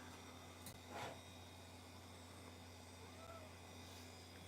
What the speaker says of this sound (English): Hi, Studio Cat.